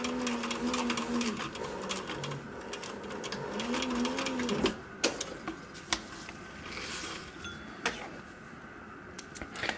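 Sewing machine stitching along the edge of a fabric sun visor over plastic, a close whirring run of rapid stitches that stops midway, followed by scattered clicks and knocks of handling.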